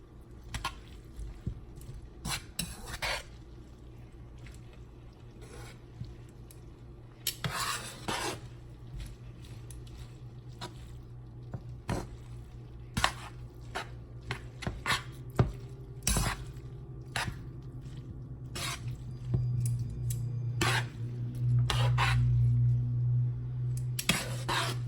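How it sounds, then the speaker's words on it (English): A large pan of shrimp scampi being stirred by hand: intermittent scraping, rubbing and clinks of a utensil against the pan, spaced irregularly over quiet moments, with a low hum of a stove or kitchen fan rising toward the end. "Just keep mixing it until you see less and less sauce at the bottom."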